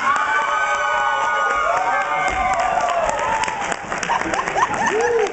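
Crowd at a costume superhero-building event cheers, whoops and applauds loudly and continuously, with shouts rising over the steady clapping and voices mixed in.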